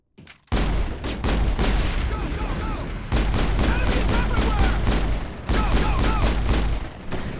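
Gunfire in a PC video game: loud, dense volleys of rapid shots roll on almost without a break, with a short lull before the shooting picks up again.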